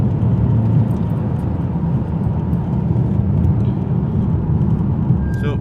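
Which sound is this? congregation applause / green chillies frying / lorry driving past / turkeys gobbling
lorry driving past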